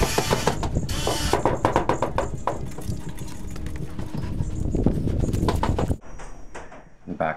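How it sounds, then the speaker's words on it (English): Horses walk down out of a hydraulic livestock liner, their hooves clopping in an uneven rhythm on the trailer floor, mixed with clanking metal and rattling partitions, close and fairly loud. "we start pulling the horses down"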